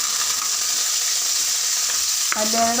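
Onion and asafoetida fry in a pan for rasam, a steady loud sizzle filling the whole clip, broken near the end by a sudden louder hiss and a tonal scrape as something is added or stirred.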